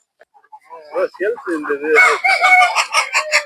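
Asil and Peruvidai chickens cluck in short bursts, then a rooster's crow rises over the flock, the birds loud and close.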